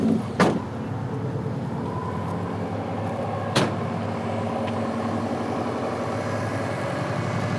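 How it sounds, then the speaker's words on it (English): A Subaru BRAT ute fitted with an EJ20 engine and a WRX console runs at a steady idle, a low even burble close by with a couple of sharp clicks early on, no voices over it. "It certainly sounds like a Subaru."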